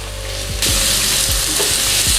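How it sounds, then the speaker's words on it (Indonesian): Ginger stir-frying in about 50 ml of hot oil for a Hakka-style dish, a loud steady sizzle that swells sharply after a moment, with a few low scraping stirs of the spatula against the pan. "Kita tumis jahenya sampai golden brown."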